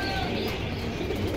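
Pigeons cooing at a busy pigeon market in Jinjira, Keraniganj, Dhaka, where fancy and racer pigeons are sold, a low steady murmur of coos amid dense crowd and market noise.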